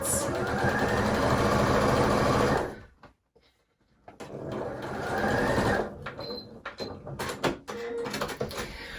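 A sewing machine stitches over a dress bust dart with the dart pointing downward: a steady close mechanical whir runs for a few seconds, stops briefly, then resumes in shorter bursts with clicks and fabric handling.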